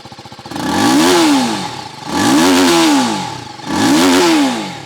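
A 2025 TVS Apache RTR 310 motorcycle engine revs hard three times in a row, each rev climbing then dropping back to a rough idle, loud and close.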